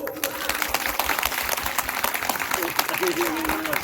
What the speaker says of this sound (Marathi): फक्त स्त्रियांनीच टाळ्या वाजवायच्या. जोरदार सुरू.